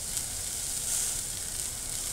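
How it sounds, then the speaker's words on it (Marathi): Tomatoes and garlic frying in a pan give a steady, close sizzle that fills the whole short stretch with no talk. "टमाटर एकदम मऊ होईपर्यंत चांगला परतून द्यायचा आहे आणि लसूण पण टाकत आहे।"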